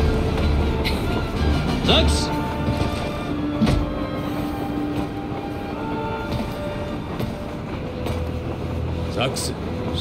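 Train riding in Crisis Core Final Fantasy VII comes through as a continuous rumbling rail ride with occasional clacks and metallic knocks, heard close and fairly loud under dialogue and music.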